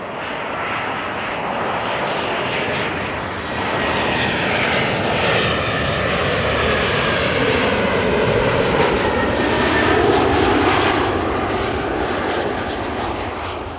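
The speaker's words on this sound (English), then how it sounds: "Now first this Embraer 190 inbound from Edinburgh, and after that 777 inbound from Curacao." An Embraer 190 jet lands at Amsterdam Schiphol Airport on approach to runway 06, its engines building to a loud, broad roar that swells and holds as it passes close overhead, with no talking.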